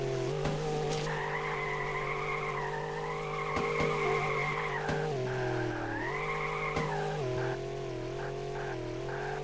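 Racing cars drift through a video game track, tires skidding and squealing over a steady engine drone in a continuous, loud, smeared wail with brief sharp bumps.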